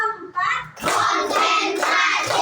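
A class claps in a rhythmic counting pattern during a teacher-training lesson, with bursts of group hand claps following a short spoken count, loud and close.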